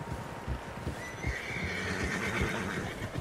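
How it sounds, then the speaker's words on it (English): Horses neigh and whinny in the Red Dead Redemption 2 video game, with clip-clopping hooves under the calls; the sounds are close and continuous for a few seconds, and no voices are heard. "Horses, quite a few of them."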